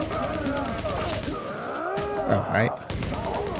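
Sustained video game gunfire, dense overlapping shots rattling throughout with a few heavier thumps, mixed with a speaking voice during an online stream.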